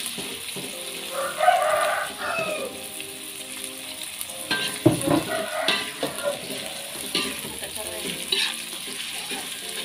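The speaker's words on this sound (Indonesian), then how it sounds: "selanjutnya kita mau goreng dulu nih" Oil sizzles and crackles steadily in a pan, frying shallots and garlic, with occasional stirring and light utensil clinks, close by and with no talking.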